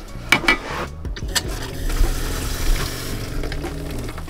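Warm water runs from a tap into the sink of a camper van conversion, a steady close splashing stream with a few clunks and knocks of handling at the start.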